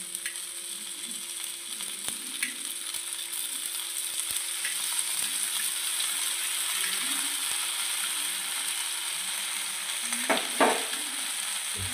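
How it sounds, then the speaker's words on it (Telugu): Fish pieces shallow-frying in a little oil in a pan, a soft continuous sizzle at close range with a faint hum and a couple of brief clatters near the end. "ఇప్పుడు ఈ ముక్కల పై నుంచి కొద్దిగా ఆయిల్ ఇలా వేస్తాము"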